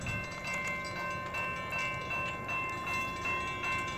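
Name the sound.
CSX eastbound train approaching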